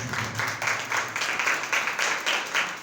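Applause from a church congregation, steady clapping at moderate loudness with a slight rhythmic pulse, continuing throughout without voices.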